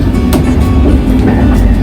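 Interior of a passenger train bound for Dijon, France, with a steady loud low rumble and faint periodic clicks of wheels over rail joints, no voices.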